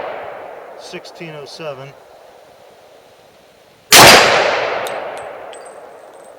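One loud, sharp gunshot from a Glock 20 pistol firing a 9x25 Dillon round, with a bright ringing tail that decays over a couple of seconds. Someone speaks briefly a couple of seconds earlier.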